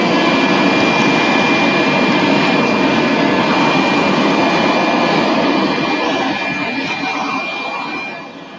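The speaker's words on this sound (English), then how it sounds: "So I'm gonna quickly vacuum this. Gotta love battery-powered vacuums" A battery-powered cordless vacuum runs close by in a workshop, a loud steady whooshing roar that holds evenly and then winds down as it is switched off at the end.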